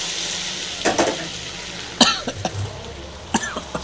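Mango thokku tempering fries in hot oil with a steady sizzle, broken by a few coughs and throat-clearing sounds close by.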